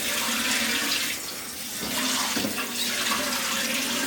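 Running water splashes steadily into a tub as items are rinsed off in a workshop, a continuous close wash of flow that dips briefly in the middle and then resumes at full strength.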